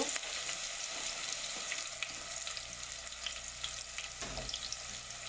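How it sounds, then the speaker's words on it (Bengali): Chopped onions frying in oil with whole cardamom, cinnamon, cloves and bay leaf, a constant soft sizzling hiss with a few faint utensil clicks, no voices. "এখন পেঁয়াজ কুচি পেঁয়াজটা ভালোভাবে ভেজে নেব"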